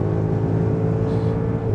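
Audi SQ8 V8 engine driving at speed on the Autobahn, a steady, loud low-frequency rumble and drone with road and wind noise, continuous throughout without talk.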